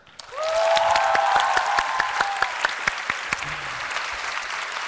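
Audience applause at a business opening show, a full roomful of clapping that swells quickly and carries on steadily with a few sharper claps standing out, while a voice briefly calls out over the start.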